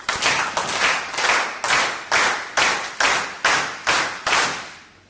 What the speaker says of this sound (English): we give them 10 good claps. 1, 2, 3, go.